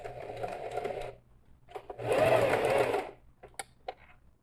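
A sewing machine stitches fabric for a toiletry bag in short, close bursts, a long run in the middle with quieter pauses and small clicks between the stitching spells.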